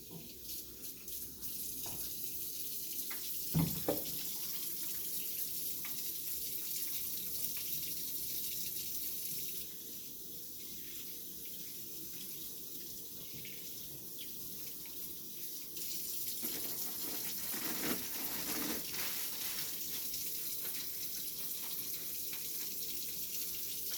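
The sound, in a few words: running water from a tap while washing hands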